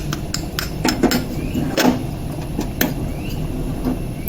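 Mustard seeds spluttering in hot oil, scattered sharp pops and crackles over a steady hiss, close and moderately loud.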